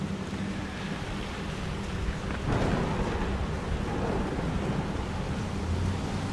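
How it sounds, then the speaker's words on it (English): Thunder rumbles in a broadband roar that swells partway through and lingers, loud and close, with a rushing wash like rain or surf beneath it. "And that lightning bolt or that thunder was just a sound."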